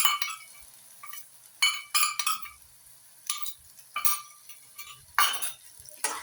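Mustard and poppy seed paste being stirred into a spicy butter catfish curry in a pan, with repeated scraping and clinking strokes of a spoon at close range, separated by brief quiet gaps.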